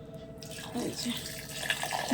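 Water runs from a household tap as it is collected, a soft continuous splashing trickle heard close with faint background noise.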